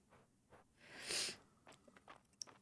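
A single sharp human sneeze bursts out near the middle, close and fairly loud, between quiet mouth noises and soft breaths.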